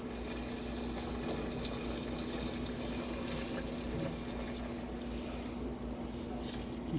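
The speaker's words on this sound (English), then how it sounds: "4 cups worth of nice cold filtered water. Let's go and pour that in." Cold filtered water pours steadily into a Bodum cold brew press for several seconds, a continuous rushing, gushing flow with a low hum underneath.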